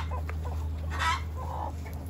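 Free-range village chickens and roosters, mixed breeds hatched in April, clucking in a farmyard, a few soft short clucks over a low steady background hum with one brief louder call in the middle.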